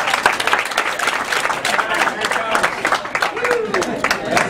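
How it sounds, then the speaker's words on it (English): An audience claps and applauds steadily for several seconds, dense and fairly close, with a few voices calling out underneath. "Give yourselves a round of applause."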